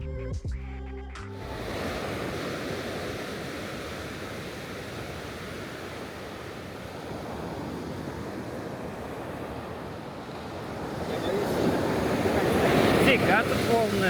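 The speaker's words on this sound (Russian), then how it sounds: "Фига тут волны. Фига там волны." Ocean surf rolling in and breaking on the shore at Hakone, Japan, a steady broadband roar with wind buffeting the microphone, swelling louder toward the end as a bigger wave arrives.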